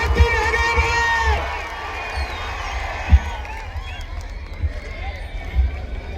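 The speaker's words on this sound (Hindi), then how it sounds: "जोरदार तालियां अब्दुल सत्तार साहब के लिए।" A large outdoor political crowd in Nanded, Maharashtra, cheers and shouts for Abdul Sattar. A dense roar with voices rising and falling holds throughout, with a few thumps and rumbles underneath.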